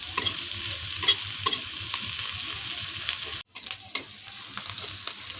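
Onions and chillies frying in a pan for Bengali fish kalia, a continuous close sizzle with periodic spatula taps and stirring scrapes, a brief dropout midway, then the sizzle resumes; no talking.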